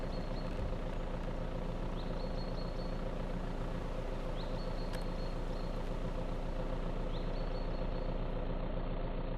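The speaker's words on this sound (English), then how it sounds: "Leave the engine running." A truck engine idles steadily in the video game Vein, a continuous low rumble with a faint recurring higher whine layered on top throughout.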